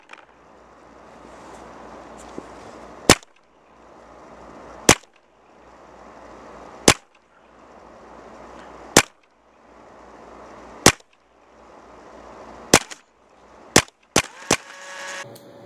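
Paintball marker fired during a barrel accuracy test with an Apex 2 barrel, about nine sharp, loud shots spaced roughly two seconds apart, then a quicker cluster near the end, over steady outdoor background noise.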